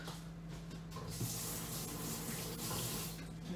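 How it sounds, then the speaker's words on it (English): Egg-yolk-covered hands are washed under a running kitchen tap after baking, a steady close hiss of flowing water with faint splashing as the hands move, and no speech. "I'm going to give my hands a wash"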